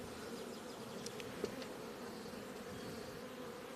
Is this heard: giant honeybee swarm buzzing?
yes